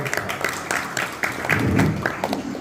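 An audience at a village yoga competition in Amanapur claps for the students' parents, producing a loud burst of steady, dense applause from a crowd.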